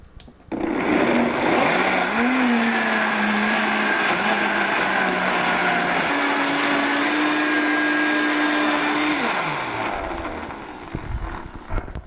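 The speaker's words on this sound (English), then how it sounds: "And just blend this until it's creamy." A blender whirs loudly through raw cashew and garlic pâté, its motor pitch rising and dipping as the thick mixture shifts, then winding down near the end with a few rattling knocks.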